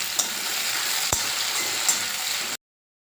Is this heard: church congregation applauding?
no